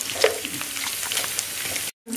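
Sliced onions fry in a pan with a loud, continuous sizzle and crackle, with light stirring scrapes mixed in and no talking.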